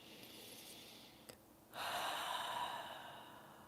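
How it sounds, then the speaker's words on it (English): A person takes a deep breath during a guided relaxation, a faint inhale followed by a longer, fuller breathy exhale, close and quiet, with no talking. "And one more breath."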